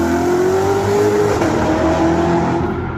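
A Chevrolet Corvette Z06 engine drones loudly and steadily, its pitch rising then easing and climbing again as it revs, with no voices.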